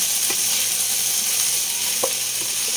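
Chicken kinamatisan being stirred in a pan, with a steady sizzle of frying and a few soft scrapes of the utensil against the pan, close by and with no voices.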